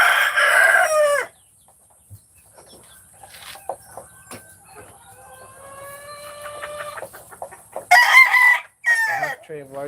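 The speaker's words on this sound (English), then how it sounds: "Just the roosters." Roosters crow loudly and nearby on a farm in Aklan, first one long call, then fainter clucks and calls in the middle, and another loud burst of crowing near the end.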